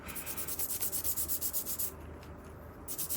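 Grime scrubbed off a vintage Standard C110 handheld 2m transceiver with a bendy antenna, giving close, quiet rhythmic rubbing strokes, steady and repetitive before easing into lighter brushing, with no talking.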